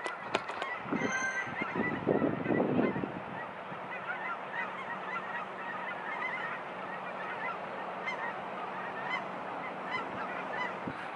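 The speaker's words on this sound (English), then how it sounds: "I think geese are probably my favorite birds." Geese honk loudly in a close, clustered burst early on, then the calls thin out against a steady outdoor background.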